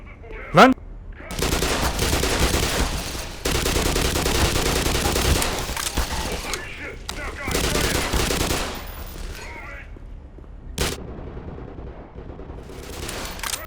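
Gunfire in the shooter game Half-Life Black Mesa, long dense bursts of rapid automatic fire broken by short pauses and single sharp shots, loud and close, with someone talking briefly over it.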